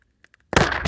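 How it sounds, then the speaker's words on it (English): Custom fireworks going off: a few faint pops, then a loud close burst followed by a second explosion, with crackling continuing after the double blast. "Oh! Secondary explosion! Nice. It was a double."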